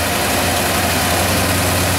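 A truck-mounted carpet cleaning machine's blower runs steadily and loudly nearby, a dense droning engine roar with a low hum and no breaks.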